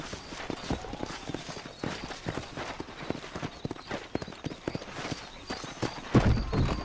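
Horse hooves clip-clop steadily at a trotting pace in the Red Dead Redemption video game, close and continuous, with a brief louder thump near the end.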